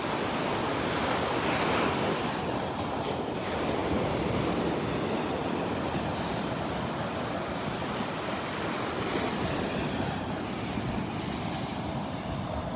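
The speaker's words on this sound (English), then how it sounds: "Listen to those waves." Ocean surf rolling onto the sand at Barefoot Beach Preserve, a steady, loud wash of breaking waves with wind buffeting the microphone throughout.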